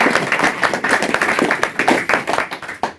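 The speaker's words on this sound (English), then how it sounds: "if you could just put your hands together to applaud Lynn." An audience at a book launch applauds the prizewinning author, close, lively clapping with individual sharp claps standing out throughout.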